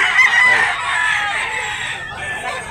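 A Gilmore bloodline gamecock crows loudly and close, one long drawn-out call lasting a couple of seconds at a rooster sale in Tabunok, Talisay, Cebu.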